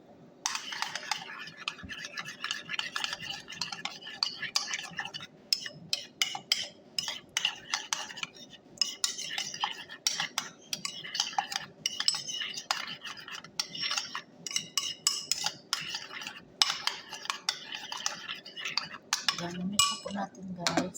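A utensil stirring mayonnaise and yellow mustard together in a bowl, rapid clinking and scraping strokes repeating steadily at close range, with brief talk near the end.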